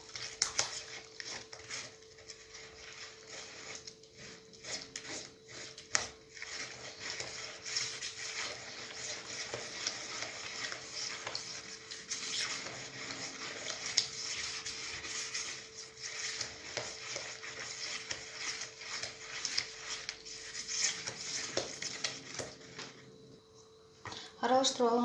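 Milk is stirred into cookie dough in a bowl, giving a steady, faint scraping and clinking of utensil against bowl under continuous talking, with a light tone humming underneath.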